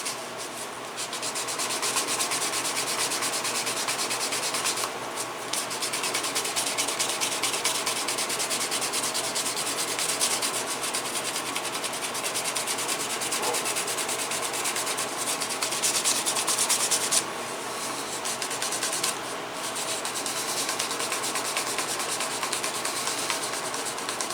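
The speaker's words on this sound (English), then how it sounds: "So this is only the second burnish on this edge." Steady, continuous rubbing of a tool against the leather edge of an IWB holster during burnishing, a loud close-up friction sound that runs almost unbroken, with a couple of brief pauses.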